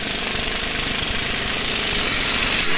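Forjoeste FF 02 multi tire remover tool working a tire off, heard as a loud, continuous rapid hammering pneumatic rattle that holds steady for the whole stretch with no talk.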